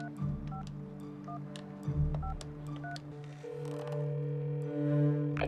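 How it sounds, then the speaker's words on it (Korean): Telephone keypad tones beep in short, evenly spaced pairs as a number is dialed in a film scene, followed by a longer sustained tone, all fairly quiet and clean with no talking. "무작위로 전화를 거는 장면이 있죠"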